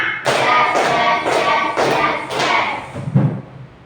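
A fourth-grade class claps together through a rhythmic spirit-clapping chant, five crisp, loud bursts of many hands in steady succession, the last one shorter and thuddier.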